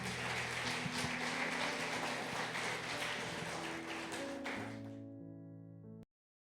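A church congregation gives a long burst of dense, steady applause that fades out as sustained musical tones take over before an abrupt cut.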